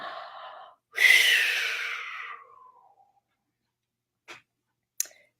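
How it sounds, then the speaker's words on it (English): A single deep breath close by: a soft inhale followed by a long, loud exhale that fades out, then two faint clicks in the quiet. "Let's take a nice deep breath."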